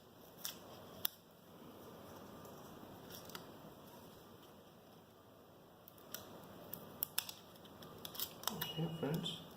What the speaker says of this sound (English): I mean it's just an aluminum foil, something like heat sink or something like that, which I'm gonna slowly peel off